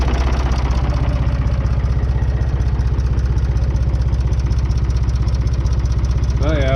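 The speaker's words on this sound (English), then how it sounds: "we're sounding a little better all the time the more it warms up" A diesel engine fitted with a 484 injection pump idles as it warms up, a loud, steady, rapid low knocking pulse that holds an even rhythm throughout, with a brief voice near the end.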